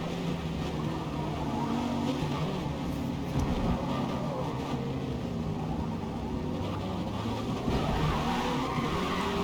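A race car in the Forza Motorsport video game brakes hard and skids, its engine drone and tire noise filling a steady, dense roar that holds at an even level for several seconds without pause.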